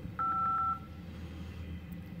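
Keypad tones from an LG G5 phone dialer, a quick run of about four short beeps close together on one steady pitch, then quiet room hiss.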